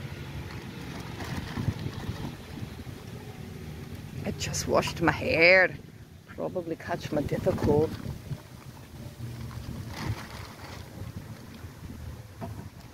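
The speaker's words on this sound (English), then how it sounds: "It's a little windy, a little chilly." Wind buffets the microphone outdoors with a low, blustery rumble while a person talks close by.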